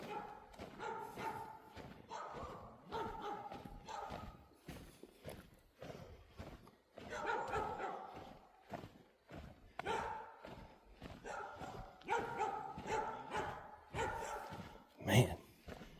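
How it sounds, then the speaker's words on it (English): Dogs barking repeatedly in bursts along a riverside neighborhood as a walker passes, fairly faint and uneven, with scattered footsteps and a sharp louder sound near the end. "Now I have to excuse these dogs again. We're about to walk right back by them."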